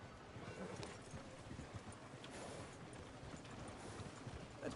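Horse hooves clip-clop at a steady trot in the Western video game Red Dead Redemption II, a continuous rhythmic patter of moderate loudness with faint background ambience and no talk over it.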